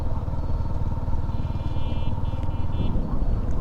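A Yamaha motorcycle rides along a road at Navaron, Satkhira, its engine a steady, loud, continuous drone with rumbling low pulses and faint higher whines passing in the background.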